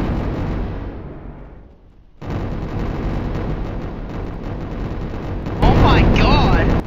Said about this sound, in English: Let's keep firing at it until it dies.